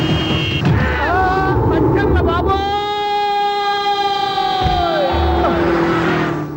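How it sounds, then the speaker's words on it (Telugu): A vehicle siren in a Telugu comedy scene wails in long, loud rising and falling tones that hold steady for several seconds, close and dominant, with a busy background of crowd and traffic noise. "హార్న్ ఏంటండి బాబు, సైరన్నే కొట్టాడు."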